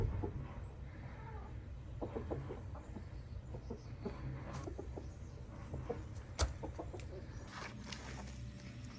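Chickens clucking softly around a stone house renovation site in Portugal, faint and fairly distant over a steady low background hum, no talking.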